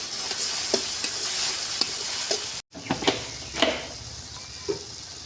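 Marinated chicken sautéing in a pan with Kashmiri red chilli powder and salt gives off a steady close sizzle, broken by soft scraping stir strokes and a brief gap, with no talking.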